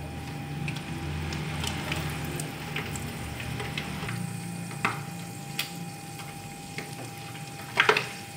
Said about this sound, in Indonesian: kita sekarang tinggal menggoreng ikan tongkolnya